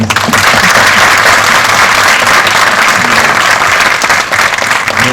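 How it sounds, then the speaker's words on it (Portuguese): Loud, dense applause from a conference audience at the 1st Anjos do Brasil National Conference, a sustained roar of many clapping hands close by, holding strong with no pauses. "eu queria só pedir uma salva de palmas para os dois"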